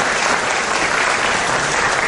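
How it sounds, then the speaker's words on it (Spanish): A conference audience applauds Abel Cruz with loud, steady, dense clapping that fills the whole moment without a break. "Un aplauso para el licenciado Abel Cruz"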